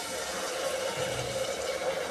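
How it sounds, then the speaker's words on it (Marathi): Water poured into a pot of Khandeshi khichdi cooking over a low gas flame, making a steady, close, moderately loud rushing splash for about two seconds with no voices. "आता आपण थोडंसंच पाणी टाकसूत"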